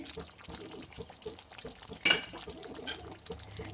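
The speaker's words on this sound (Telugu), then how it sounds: "ఇక ఇలాగ మామూలుగా కలిపేయాలండి." A spoon stirs thick stuffed-brinjal gravy curry in a pan, with soft scraping and a gentle sizzle, and one sharper clink of metal partway through.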